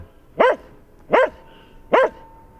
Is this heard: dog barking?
yes